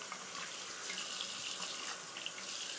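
Water running steadily from a bathroom tap into a sink while shaving soap is rinsed from a shaving brush, a continuous close hiss and splash with no talk.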